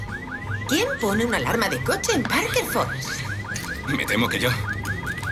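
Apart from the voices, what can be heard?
car alarm going off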